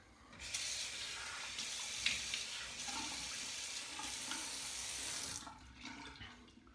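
Running tap water splashes steadily as a 316L stainless META-4 safety razor with a flare tip is rinsed under the faucet, a continuous hiss of about five seconds that then cuts off, with no voices.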